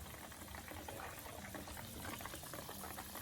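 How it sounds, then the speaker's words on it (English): Butter boils gently in a pot as it clarifies into ghee, giving a continuous faint bubbling and crackling fizz at steady low volume with no voices. "we're gonna keep boiling it until it becomes clear"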